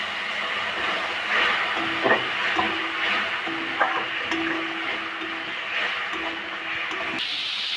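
Spice paste for a silver carp and potato fish curry sautés in hot oil, giving a steady close sizzling hiss with intermittent scraping and stirring strokes throughout.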